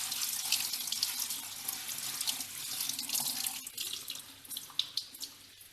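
Steady running tap water splashes continuously into a sink, with light clinks and shuffles of lemongrass, betel leaves and mint being rinsed beneath the stream.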